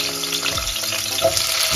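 Garlic drops into hot oil in a pan for Sichuan fish, a loud, close, steady sizzling hiss that swells briefly as it hits and keeps crackling throughout, with no talking.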